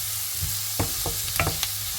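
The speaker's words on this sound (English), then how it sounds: "just adding one large onion that I've diced. So just cooking the onion" Diced large onion cooking in a pan for a slow-cooked lamb stew, a steady close sizzle with a few sharp scraping stirs of a utensil, no talking.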